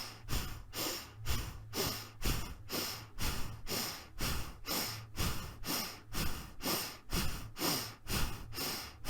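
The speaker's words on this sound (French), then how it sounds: "J'inspire par le nez, j'expire par le nez." Slow, steady breaths drawn in and pushed out through the nose during a calming belly-breathing exercise, about a dozen close, soft cycles in an even rhythm with no talking.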